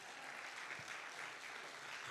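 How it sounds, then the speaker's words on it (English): Audience applause at a public safety forum in Richmond, honoring a pastor; steady, dense clapping from a crowd that holds evenly across the whole stretch with no voices over it. "just clap it up for him once again"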